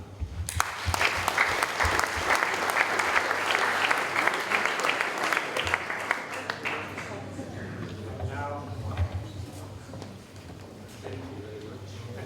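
Audience applause at an award ceremony, steady dense clapping for several seconds that then tapers off as a speaker begins talking over the dwindling hands.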